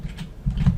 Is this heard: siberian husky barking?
no